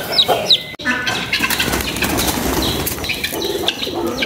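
Guinea fowl come flying in with a flurry of flapping wingbeats, mixed with scattered bird calls and coos from other poultry and pigeons nearby, all fairly close and busy, with no clear talk.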